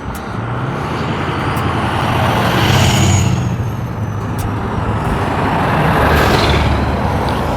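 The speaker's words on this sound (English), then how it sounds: "Make sure we don't get ran over by any cars and trucks." Cars and trucks pass along a road near Lake Havasu, a steady roadway roar swelling twice as vehicles go by close, with a faint hiss like an air brake.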